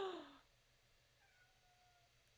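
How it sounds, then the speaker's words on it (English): A short, high kitten meow at the very start, fading into a quiet room with faint background tones. "I don't know if y'all can hear the kitten in the background"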